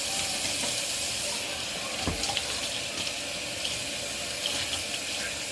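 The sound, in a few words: running water while washing makeup brushes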